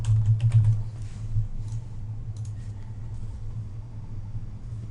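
Keys clatter in quick, uneven bursts as someone types on a computer keyboard while entering spreadsheet data, the tapping moderately close over a steady low hum, heaviest in the first second and lighter afterward.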